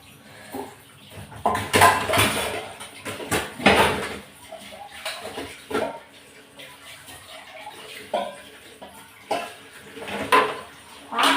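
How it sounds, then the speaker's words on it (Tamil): Kitchen vessels washed by hand at a sink, with repeated clattering of pots and plates, splashing water and scraping, loud and close with irregular bursts throughout. "ஒரு 5 பாத்திரமாக கழுவி எடுத்து வச்சுருவேன்"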